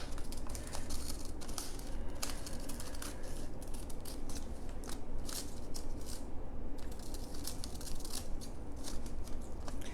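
Scissors snip steadily through decoupage paper, cutting out leaf shapes close up, with quick crisp clicks and faint rustling of paper repeating throughout and no talking.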